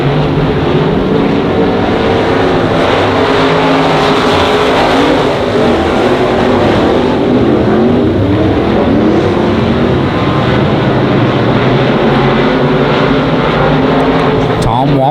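Race cars roar around the Monarch Motor Speedway oval in a continuous loud engine din, with several cars running close together. An announcer talks throughout.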